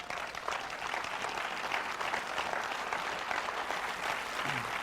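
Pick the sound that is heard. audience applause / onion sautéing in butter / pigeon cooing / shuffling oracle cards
audience applause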